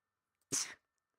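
A single short, sharp sneeze bursts out close by in an otherwise quiet room.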